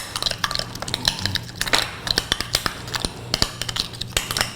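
Spoon stirring red chili powder seasoning in a bowl, a rapid series of close, bright clinks and scrapes in an uneven rhythm.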